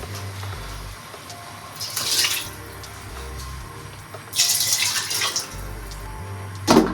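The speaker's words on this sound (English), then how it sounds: "So we're gonna throw in the rest of the marinade and add 2 cups of water to that." Liquid gushes in three separate bursts as marinade and water go into a cooking pot for pork adobo, each pour a few seconds of splashing rush over a quiet kitchen background, with no speech.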